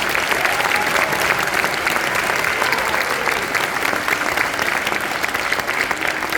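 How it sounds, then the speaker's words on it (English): Sustained audience applause at a school spring concert and awards ceremony, a dense steady patter of many hands clapping throughout, fairly loud and continuous with no voices standing out. "Big round of applause for the double letter writers."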